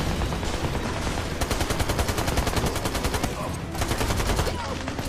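Sustained automatic gunfire from a mounted machine gun in the third-person shooter Army of Two: The Devil's Cartel, rapid loud bursts rattling almost continuously with brief gaps, dense and close.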